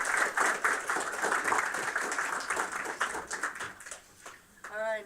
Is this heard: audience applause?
yes